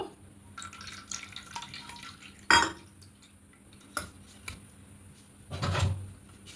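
A spoon scrapes and clinks against a strainer as ground mustard paste is pressed through, with a few sharp metallic taps and soft wet stirring, close and fairly quiet, with no talking.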